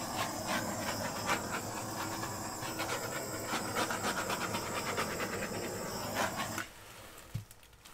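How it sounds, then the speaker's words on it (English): Steady loud hiss of a torch flame played over a poured acrylic paint surface containing silicone, continuous for several seconds before cutting off abruptly, followed by a brief faint knock. "I should torch that a little bit."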